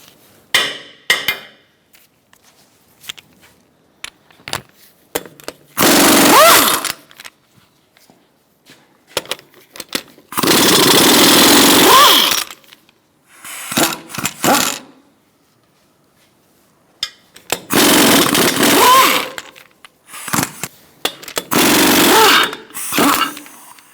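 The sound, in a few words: power tool removing lug nuts with 21mm socket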